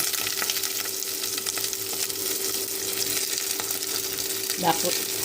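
Shrimp fry in a hot pan with garlic on an outdoor mountain cooking setup, a continuous crackling sizzle with a steady hum beneath and a brief clatter near the end.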